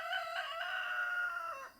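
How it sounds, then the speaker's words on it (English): A single chicken lets out one drawn-out, crow-like call that lasts under two seconds, fairly close and clear above faint background noise. "so the chickens are out."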